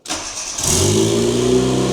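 Turbocharged car engine with a newly fitted intercooler cranks briefly and catches, then settles into a loud, steady idle close by, with no voices.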